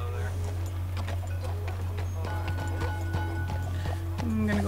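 Horse hooves clip-clopping on a street in Saint Denis in Red Dead Redemption 2, an irregular series of close hoof hits over a constant low game hum, with someone talking.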